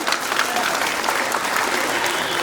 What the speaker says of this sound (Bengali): আমরা সবাই মিলে ওনাদেরকে জোরে হাততালি দিয়ে দেই